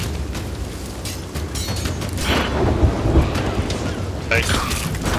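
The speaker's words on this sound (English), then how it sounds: "I think I just got struck by lightning." Thunder from a lightning strike in the Sea of Thieves video game rolls in as a deep rumbling boom over steady rain-like hiss. Brief louder cracks stand out midway, with faint voices in the background.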